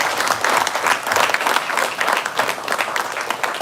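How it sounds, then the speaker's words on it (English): Loud, sustained audience applause at a university valedictory ceremony, many hands clapping densely and continuously close to the microphone. "Please have a round of applause for them."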